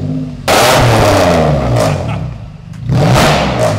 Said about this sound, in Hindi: क्या आवाज यार गाड़ी की